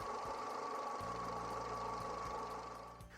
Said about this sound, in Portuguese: funcione o motor e deixe-o em marcha lenta